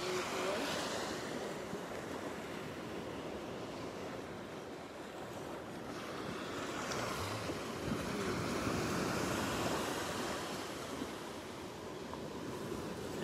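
Ocean waves of one to two feet roll in onto a beach at sunrise, a steady broadband surf roar with gentle swells in intensity and some wind buffeting the microphone, no voices.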